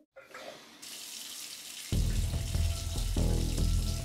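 A tap runs with water splashing into a bathtub, starting as a steady hiss that turns into a louder, fuller gush near the mic and continues alone with no voices.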